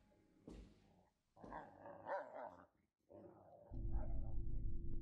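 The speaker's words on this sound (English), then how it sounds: "Got a little puppy dog." A dog barks and growls in the horror video game Wrong Floor, fairly faint and intermittent, with a low rumbling drone rising toward the end.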